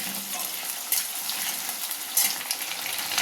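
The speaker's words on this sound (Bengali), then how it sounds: "আগে আমি আলুটাকে একটু ভালো করে ভাজা করে নেব" Potatoes fry in a pan for a cauliflower dish, a steady close hiss and crackle of oil with occasional louder pops and stirring scrapes.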